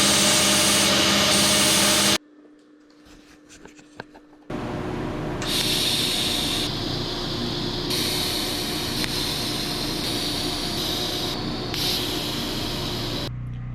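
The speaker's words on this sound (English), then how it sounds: "Making more weld washers." Stick welding washers with thin 45-thousandths rod in a home workshop: a dense, steady crackling hiss, briefly interrupted by a quieter pause near the start before it resumes strongly.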